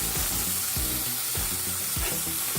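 A steak sizzles hard in a cast iron pan right after being flipped, a loud continuous crackle with a few dull low thuds, close up and without voices.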